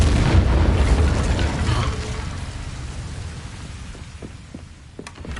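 An Incendio fire spell cast in Hogwarts Legacy, a loud rumbling burst of flame that roars then fades over several seconds, with a few small crackles near the end.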